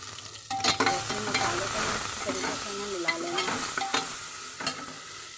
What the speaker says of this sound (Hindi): मसाले को तरीके से मैं मिला लेना है।